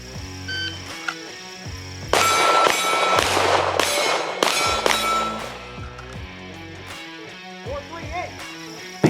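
Rapid 9mm shots from a Canik SFX Rival Darkside pistol ring off steel targets in a roundabout steel challenge stage, a dense flurry of sharp cracks and metallic clangs mid-clip between quieter single shots.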